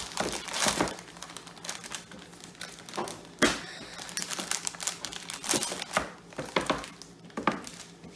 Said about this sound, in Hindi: अब मैं अपना चॉकलेट को काटूंगी।